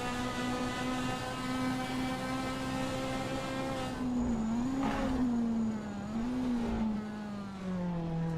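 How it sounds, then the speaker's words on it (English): Race car engine in a sim racing game at the Nurburgring, a GT sprint: a steady, loud, buzzing roar holding pitch, then dipping and rising through gear changes and throttle lifts. "the roar of the engine"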